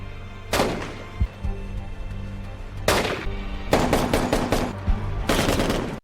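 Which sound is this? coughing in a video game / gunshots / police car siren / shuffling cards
gunshots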